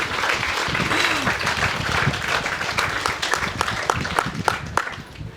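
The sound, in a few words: audience applause at a lecture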